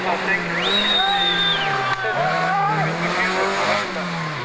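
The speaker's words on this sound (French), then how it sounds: "La voiture, la 205" A Peugeot 205 rally car, class 3, races through a stage of the Rallye Montastruc, its engine revving up and down through gear changes, loud and close, with a commentator talking over it.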